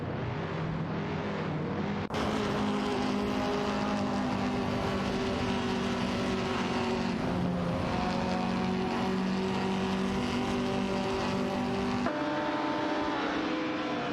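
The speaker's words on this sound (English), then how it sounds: "Racing car dashing our way." An AI-driven race car in a racing video game roars steadily with a strong engine drone that shifts pitch as it speeds by, continuous and loud throughout with abrupt cuts in the sound.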